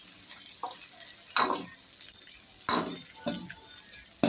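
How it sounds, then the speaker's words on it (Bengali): Sliced onion and capsicum fry in a pan for Kolkata restaurant-style chili chicken, with a soft steady sizzle and several louder bursts of stirring and utensil scraping, and no voice. "পেঁয়াজ ক্যাপসিকাম দিয়ে এগুলোকে হালকা হালকা ফ্রাই করতে হবে"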